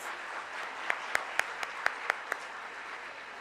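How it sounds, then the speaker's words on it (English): Light, sparse applause for dignitaries at a foundation day and awards ceremony, scattered claps rising over a hushed room, a few sharp individual claps standing out near the middle. "Can we please have a round of applause for our dignitaries?"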